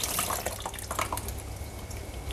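Leftover water trickles and drips out of a filter housing into a basin, a soft, close, uneven splashing with no talk.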